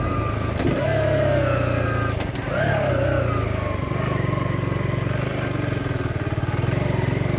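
A Kawasaki Z125 Pro motorcycle with a full titanium exhaust and high-flow air filter revs loudly nearby, rising in two sharp throttle bursts before settling into a steady, throbbing idle.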